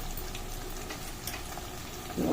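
Fresh ginger and garlic frying in a pan for a mixed vegetable pulusu. A steady, close crackling sizzle runs throughout and swells slightly at the end.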